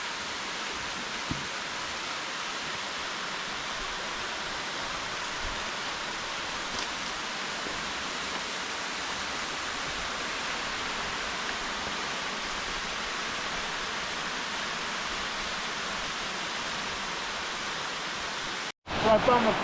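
Cold mountain stream pouring into a swimming hole along the Appalachian Trail in winter, a steady rushing wash of water filling the whole clip, ending in a brief handling bump.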